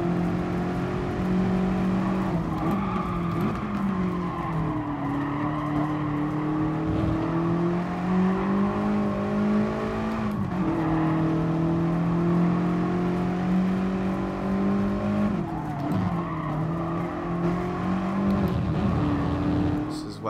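Ford GT race car in GT Sport accelerating hard, a loud continuous engine drone with rising and falling pitch as the driver gets on and off the power, steady and close throughout.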